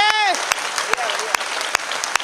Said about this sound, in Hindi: आपकी तालियां कमजोर है मेरे दोस्त।